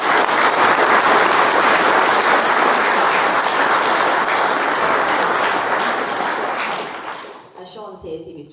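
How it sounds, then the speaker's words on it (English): Vigorous audience applause at a community event about quarrying in Derrylin and Teemore, a thick wash of clapping that holds steady and then tapers off. "I'd like you to give another big round of applause"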